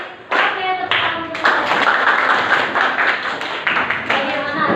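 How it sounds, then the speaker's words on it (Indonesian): A classroom of students claps in short, rhythmic bursts, several quick rounds of sharp, close hand claps with brief pauses between them, while a teacher's voice is heard among them. "Oke, tepuk tangan."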